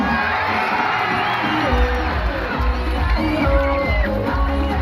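A crowd at the Ancol dolphin show cheers, whoops and shouts loudly and continuously, with excited children's voices and a backing melody running underneath.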